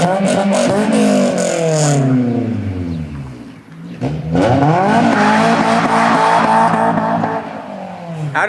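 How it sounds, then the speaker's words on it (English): A Honda car passing on the road, its engine rising and falling in pitch as it revs by, followed by a second vehicle sweeping past close and loud. "Hey, that's a Honda."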